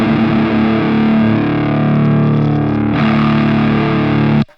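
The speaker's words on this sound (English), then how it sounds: "what I'm going to do is I'm going to do drop D tuning really quick" Distorted electric guitar in drop D tuning rings out in sustained, heavy low chords for about four seconds, with a brief change partway through and an abrupt cutoff at the end, loud and alone.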